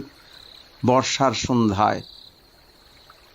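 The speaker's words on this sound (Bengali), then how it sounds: "ঝিঝি পোকা ডাকছে" A thin, steady cricket trill runs through the whole stretch, softly in the background, while a person speaks briefly in the middle.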